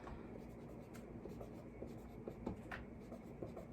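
Pen or pencil writing notes by hand on paper, soft scratchy strokes and light rubbing sounds continuing quietly and close through a low background hiss, with no talking.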